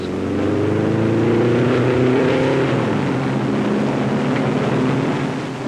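Novi race car pulling out of the pits after refuelling and three new tires at the 1957 Indy 500, a loud, close engine drone that rises in pitch as it accelerates away, then holds steady.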